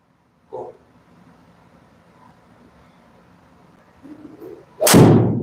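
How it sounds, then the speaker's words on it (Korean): A single loud, sharp blast bursts out near the end after quiet background rumble, booming with a broad low-heavy tail like a cannon shot. "오, 대포 소리입니다."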